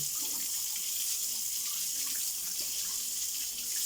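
Water runs steadily from a tap while a pig is bathed, a continuous hissing splash close by with no breaks.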